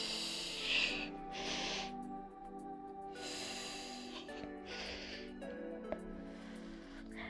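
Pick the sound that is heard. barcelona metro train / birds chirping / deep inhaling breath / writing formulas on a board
deep inhaling breath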